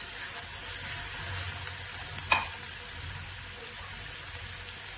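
Sliced onions fry with salt in a pan for a masala ojri dish, giving a quiet, steady sizzle with one brief clink of a utensil partway through.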